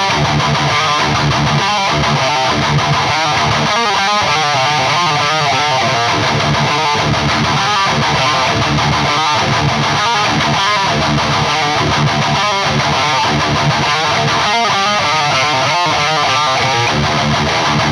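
A Gibson 50's Standard Les Paul plays heavy, distorted metal rhythm parts, with dense palm-muted chugs and chords in a loud, continuous driving pattern and no talking.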